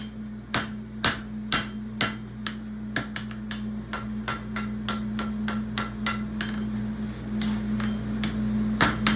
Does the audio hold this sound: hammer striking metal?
yes